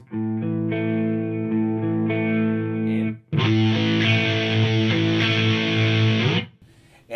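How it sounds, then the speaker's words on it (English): Sustained electric guitar chords, clean at first, then a heavier, saturated distorted tone from a Boss MDP distortion pedal after a short break, loud and close. "this is just the Distortion pedal"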